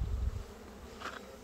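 Honeybees buzz continuously at close range around a hive, a low droning hum with a few individual insects flying past near the end.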